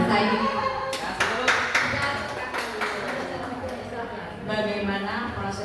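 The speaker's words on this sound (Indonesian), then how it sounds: "tepuk tangan sekali lagi untuk Bu Mutiara" Audience applause at a teachers' deep-learning training session in Indonesia, a sustained round of clapping from a room of people with voices mixed in, rising again near the end.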